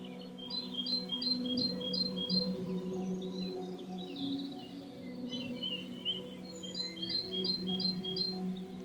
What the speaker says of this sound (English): And keep listening for the birds.